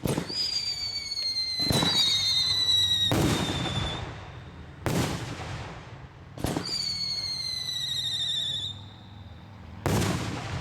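3-inch salute fireworks bursting outdoors in a rapid sequence of loud sharp booms, several preceded by rising whistling squeals, each blast echoing before the next.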